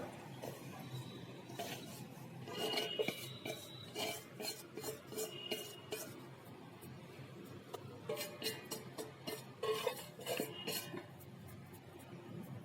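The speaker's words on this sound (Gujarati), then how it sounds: "દેશી ઘીની અંદર શેકી લઈએ મિત્રો આ રીતે આપણે આને ઘીની અંદર શેકીને તૈયાર કરવાનો છે" Sifted flour roasting in desi ghee for adadiya, stirred in a metal pan: continuous close scraping and rasping strokes with frequent clinks of the spoon against the pot, irregular in rhythm and fairly quiet.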